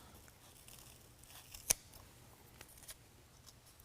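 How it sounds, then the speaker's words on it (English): A single sharp snip of scissors cutting through a rubber seal, brief and fairly quiet against a faint background hiss. "we're going to cut it in place with a pair of scissors."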